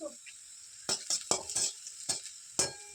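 Garlic and ginger fry in a little oil in a pan for veg manchow soup, a soft sizzle broken by several sharp scraping strokes of a spatula against the metal, close and irregular.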